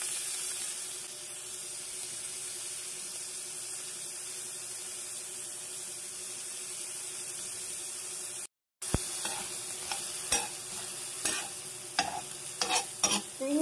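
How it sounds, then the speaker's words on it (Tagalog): Garlic and onion sautéing in a pan for buttered shrimp with tofu, a steady close sizzle throughout, then after a brief cut, stirring scrapes and spatula clicks over the continuing fry. "Next, saute tayo ng bawang saka sibuyas."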